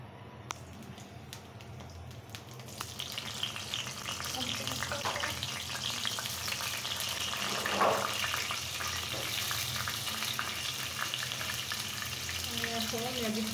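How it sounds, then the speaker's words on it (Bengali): Potatoes go into hot oil and fry, starting with a few sharp knocks before a steady crackling sizzle builds and holds, close by and moderately quiet, with faint background clatter. "এখন আমি আলুগুলা দিয়ে দিচ্ছি, ভেজে নেব।"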